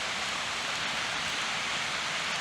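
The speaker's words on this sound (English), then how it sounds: "mainly because it's raining" Steady rain falls outdoors as a dense, even hiss of droplets, close and constant with no gaps and no voices.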